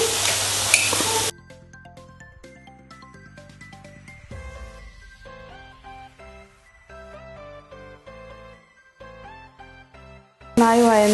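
Onions frying with crushed ginger, garlic and green chili in a pan give a loud, hissing sizzle for the first second or so and again briefly at the end, with melodic background music filling the stretch between.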